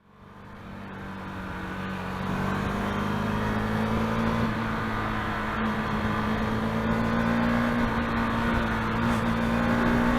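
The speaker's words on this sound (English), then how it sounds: "this being a single cylinder, don't expect the engine to be very smooth" A 2017 KTM Duke 390 single-cylinder motorcycle engine accelerates, its steady droning note climbing gradually in pitch, loud and close with rushing wind noise.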